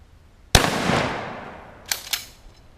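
A single sharp gunshot cracks out in a backyard as a round is fired into a stack of wood blocks, then decays through a long echo, followed by two fainter distant reports.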